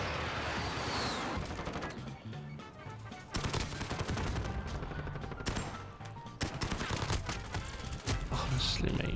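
Automatic gunfire in Call of Duty Modern Warfare 2 on the Rust map, with loud rapid bursts and sharp cracks repeating over about nine seconds, packed densely with brief pauses, without voices.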